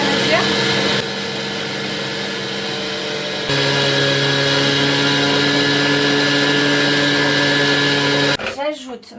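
Electric mixer kneading focaccia dough of milk, water and yeast, a loud steady motor whine that shifts speed twice and then cuts off, with a voice talking over it near the end.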